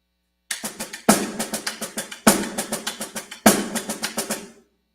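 A drum kit plays repeating phrases of rapid paradiddle snare strokes, each group opening with a strong flammed accent, with brief pauses between groups.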